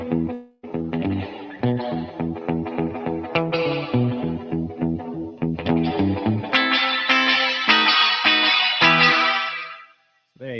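A Universal Audio reverb pedal with the treble turned fully up colours an electric guitar playing a run of bright, chiming chords and picked notes, the reverb tail ringing out brightly and sustaining before the sound cuts off at the end.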